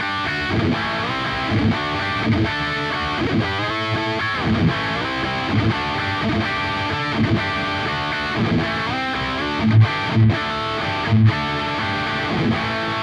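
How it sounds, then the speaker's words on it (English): Electric guitar played through a drive effect on a Zoom G11 multi-effects processor, giving a distorted, sustained tone with rhythmic chord strums and accents spread evenly across the whole passage, with no voice. "Next, we can add a drive effect before the amp simulation."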